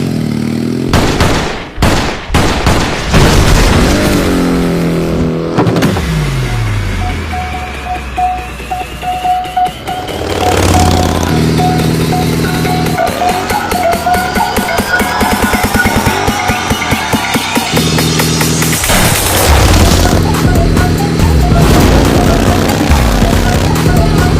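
Gunfire in a Hindi action film scene, sharp rapid shots and bursts of rounds mixed with loud score and sweeping effects, dense and near, running almost without pause for about twenty-four seconds.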